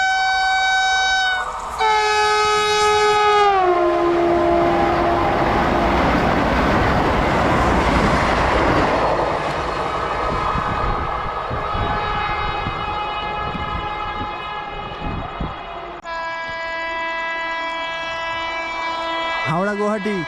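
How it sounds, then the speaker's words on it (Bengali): An Indian Railways Patna–Howrah Vande Bharat express roars past at high speed, a loud sustained rush of wheels and air framed by long blaring horn blasts at the start and end. "দেখো, পাটনা হাওড়া বন্দে ভারত।"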